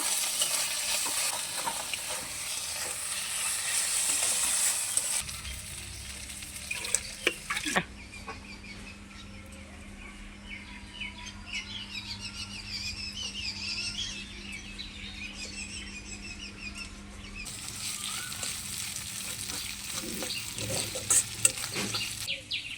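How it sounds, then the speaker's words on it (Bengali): Ginger-garlic paste frying with onions for a dried loitta fish dish, a steady loud sizzle with stirring scrapes and a sustained hum, the sizzle briefly dropping and swelling again midway. "পেঁয়াজের সঙ্গে আদা রসুনের পেস্টটা আমি ভেজে নিয়েছি"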